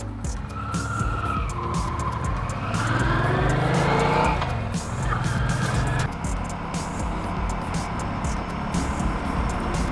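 A Honda motorcycle rides along a road, its engine droning steadily as it rises in pitch through acceleration and shifts gear, with wind rush throughout and no speech.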